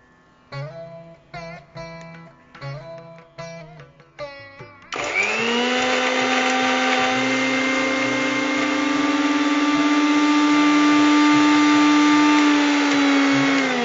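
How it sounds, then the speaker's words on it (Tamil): Mixer grinder grinding kalyana murungai leaves: several short pulsed bursts first, then a loud steady motor whine that holds to the end, running alone without talk. "முதல்ல லேசாக இந்த இலையை அரைச்சிக்கிட்டு அதன் பிறகு இந்த சிறு வெங்காயத்தை இதில் போட்டு அரைக்கணும்"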